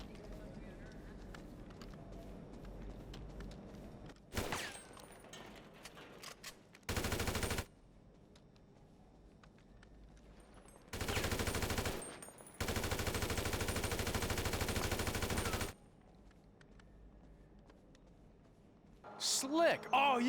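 Bursts of automatic gunfire in GTA 5, cutting in and out abruptly in loud blocks separated by near-silence where the sound drops away.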